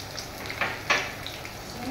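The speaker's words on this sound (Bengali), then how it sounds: "আলুগুলো ভাজার সময়" Potatoes frying in mustard oil make a soft, steady sizzle with a couple of brief louder crackles.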